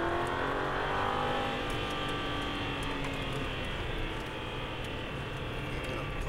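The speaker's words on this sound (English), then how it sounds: "Steady throttle through here, and then as you straighten the wheel, accelerate." An Aston Martin V8 Vantage accelerates out of a corner on a track, its engine droning loud and steady with rising pitch, heard from close inside the car.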